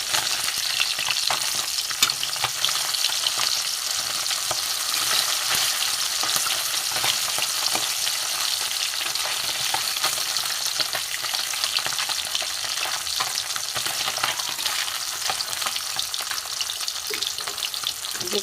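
Bata fish coated in salt and turmeric fries in hot oil in a wok, giving a loud, steady, unbroken sizzle that runs without a pause and with no voices over it.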